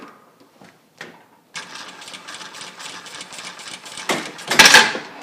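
An industrial sewing machine with an auto thread cutter stitches through tarp material in a sustained rattling run after a few soft clicks, rising to a louder burst near the end.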